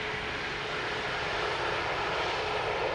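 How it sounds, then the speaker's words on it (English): A steady, broad roar of an airliner engine landing at Amsterdam Schiphol Airport without thrust reversers rumbles without letup, constant in loudness, with no voices. "Looks like a no reverser landing."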